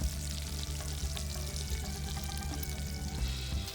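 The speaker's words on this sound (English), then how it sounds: "look at those turkey tails frying away" Smoked turkey tails fry in a pan with a steady, dense sizzle and crackle that holds at an even level throughout, close and fairly loud, with no talking.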